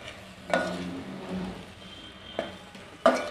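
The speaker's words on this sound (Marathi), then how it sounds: "मिरची पावडर घालून मिक्स करून घ्यायचं आहे" A spoon stirs potato and sago chakli dough mixed with red chili powder, giving soft scraping sounds and three sharp clinks against the pot.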